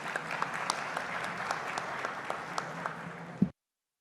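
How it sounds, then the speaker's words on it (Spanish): Applause greets a speaker on a panel about public media content: a room of people clapping steadily for several seconds with a few sharper individual claps, then it cuts off abruptly. "Un aplauso para ella, por favor."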